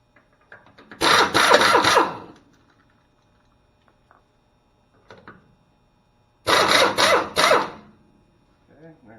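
Air impact tool taking the lug nuts off a vehicle wheel in a workshop lab, two loud rattling bursts of a second or so each, separated by quiet with faint handling clicks, heard alone without talk.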